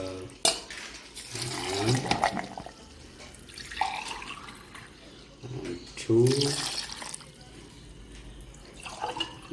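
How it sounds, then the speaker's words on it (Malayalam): Water is poured while mango juice is being made, with splashing and gurgling bursts that come and go alongside a talking voice and a few clinks nearby. "മൂന്ന് ഗ്ലാസ് വെള്ളം ഒഴിക്കുക"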